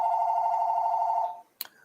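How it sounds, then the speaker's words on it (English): An electronic telephone ring sounds steadily and loudly for over a second, then cuts off, followed by a short click and a faint brief tone. "Can you hear that phone?"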